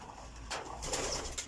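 Pigeons kept in a loft give soft low cooing, a couple of faint murmuring calls over quiet background noise.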